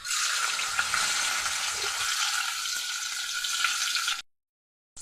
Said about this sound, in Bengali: কড়াতে কিছুটা সাদা তেল দিয়ে দিলাম। তেলটা গরম হয়ে গেছে। এখন পনিরগুলি আমি দিয়ে দিচ্ছি।